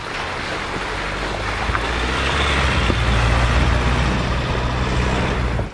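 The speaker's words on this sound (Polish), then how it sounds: "To taki strumyczek sobie po prostu płynie." A small stream swollen by recent rain flows steadily, giving a continuous broadband rush of water that stays even and unbroken throughout.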